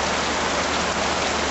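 Steady rain pours down in an impoverished community, a dense, even hiss of drops hitting surfaces at constant loudness throughout, with no voices over it.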